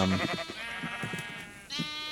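Minecraft sheep bleat on a survival farm, a few wavering, nasal calls close up, the clearest one near the end of the short stretch.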